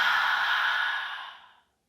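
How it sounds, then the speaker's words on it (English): A long, breathy "ha" exhalation during a slow Pilates class, close and clear, a single airy sigh that fades out over about a second and a half into silence. "You can also try a ha breath like this."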